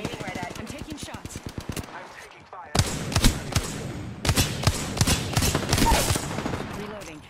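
Rapid gunfire in Apex Legends, bursts of sharp repeated shots in quick rhythm, loud and close, with a pause before heavier volleys resume, and a voice talking over them.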